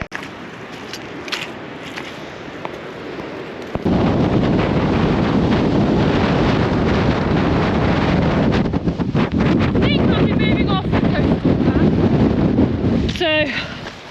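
Gusty wind on a coastal path buffets the microphone during a run, starting as lighter rustling and then becoming a loud, constant roar with brief bursts and crackles.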